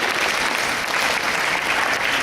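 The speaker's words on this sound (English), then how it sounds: "Clap for yourself." School students clapping together at a school assembly, a dense, loud, steady burst of applause from many hands filling the whole short stretch, with no talk over it.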